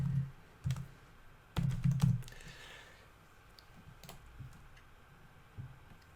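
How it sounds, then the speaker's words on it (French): Password being typed on a computer keyboard: a few scattered clicks and short bursts of keystrokes, close and moderately quiet, with no speech. "Donc je tape le mot de passe."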